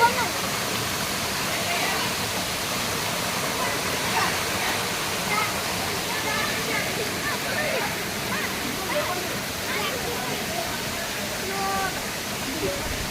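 Valasa waterfall pours in a steady, loud broadband rush of falling water that holds even throughout, with what may be faint voices beneath the roar.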